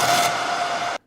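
Crunchy, detuned FM synth bass with no processing, one dense buzzing sustained note held for about a second before it cuts off abruptly into silence.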